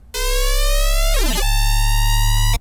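A Serum synth bass with its phaser set to octave mode plays a loud, sustained buzzy tone alone, a sweeping dip bending through it midway before it settles back.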